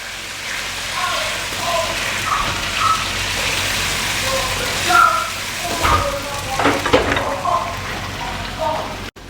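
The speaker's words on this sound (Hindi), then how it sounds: "तो अदरक लहसुन को थोड़ा सा मैंने पका लिया है।" Ginger and garlic frying in a pan for restaurant-style chicken karahi, a steady crackling sizzle running throughout with a few brief clinks and louder pops near the middle.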